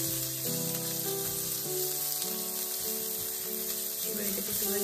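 Grated ginger and green chillies fry in a pan, giving a steady, dense sizzle that carries throughout, with faint stirring and tonal background sounds layered over it.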